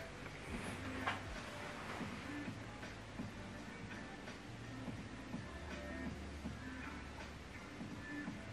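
A quiet HP Deskjet inkjet printer runs nearby, with a steady mechanical whir, repeating low hums and soft ticking as the print head moves back and forth.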